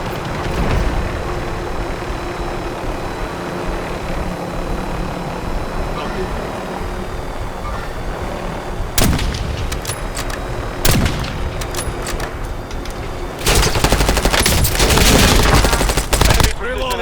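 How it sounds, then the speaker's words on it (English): An enemy precision airstrike in a video game brings a droning aircraft hum, then loud broadband blasts of gunfire and explosions that hit at intervals and build into sustained fire near the end, with a voice speaking over part of it. "Enemy precision airstrike. Find cover."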